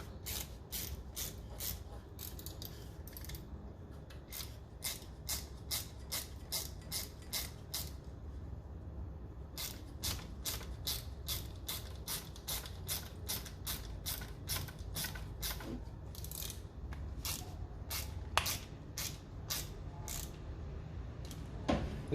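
A ratchet tightens a bolt on a Yoshimura rear fender eliminator fitted to a 2018 Honda CBR1000RR, giving a steady run of rapid metallic clicks that repeat close by at an even pace over a low hum.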